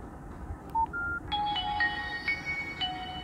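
A phone keypad dials a call: a short run of separate DTMF beeps at uneven intervals, about eight tones in three seconds, heard clearly over a steady low room hum.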